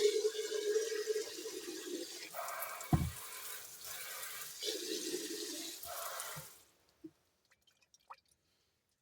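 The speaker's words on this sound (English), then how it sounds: "I'm going to put some water back in here." Water pours steadily into a container for several seconds, the splashing sound changing in pitch as it fills, then cuts off, followed by a few faint drips.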